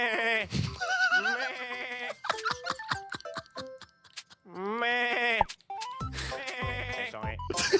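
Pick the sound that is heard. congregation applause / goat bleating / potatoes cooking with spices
goat bleating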